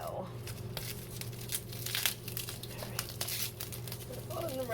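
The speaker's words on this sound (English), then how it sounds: "the shrink wrap. I think shrink wrap is harder to get off than tape sometimes." Shrink wrap from a parcel of mailed Hoya plants crinkles and tears in quiet, irregular bursts, with a voice talking faintly over it.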